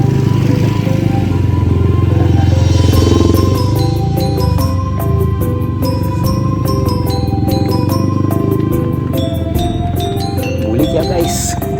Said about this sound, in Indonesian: mereka malah naik motor guys